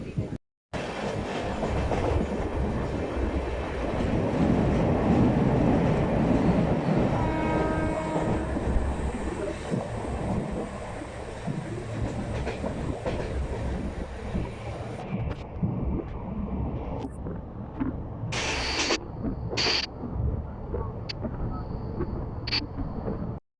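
A passenger train rumbles past nearby at Kottayam railway station with rhythmic clatter of wheels on rails and a sustained horn blast, fading into station noise and brief sharp squeals.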